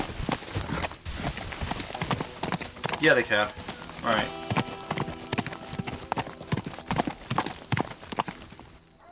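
Horses crossing a rock bridge in a Teardown video game, with a steady run of rhythmic hoof clip-clops, near and fairly loud, plus a brief whinny, while someone talks over them.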